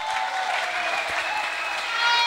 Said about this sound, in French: On peut également applaudir très très fort pour Kinshasa